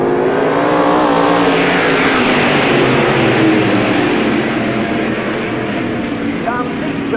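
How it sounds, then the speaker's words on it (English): NASCAR Busch All Star Tour stock cars accelerating out of turn 4 at the start of a 1997 race at Tri City Speedway, a loud, continuous, layered engine roar that swells and sustains with a rising pitch, under a commentator's voice. "we'll let them come out of turn 4, we'll let the engine come up"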